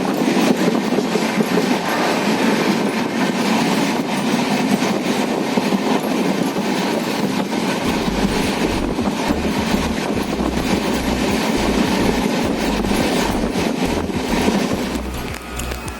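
The Kavi Guru Express passenger train runs on the rails between Muzaffarpur and Guwahati past tea gardens. A loud, steady rumble from inside the train continues without a break, with rhythmic low clickety-clack from the wheels joining halfway through.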